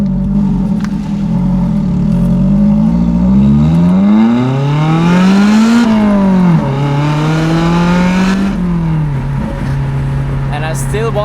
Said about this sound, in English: how does a Toyota 4-cylinder sound this good?